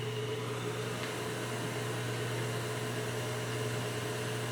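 An electric mixer beats powdered sugar into butter for orange dreamsicle cupcake frosting at high altitude, giving a steady, unbroken motor whir that stays quiet and even throughout, with no talking.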